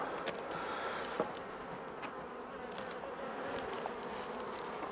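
A honeybee colony from a shook swarm hums continuously and close by at the hive as its feeder goes back on, a steady dense buzz with a few faint knocks.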